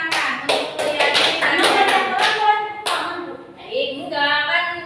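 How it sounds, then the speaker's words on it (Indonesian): Scattered clapping from a small student audience at a peer-teaching session, a handful of sharp claps for a few seconds before a voice speaks briefly near the end. "Beri tepuk tangan untuk Mulyani."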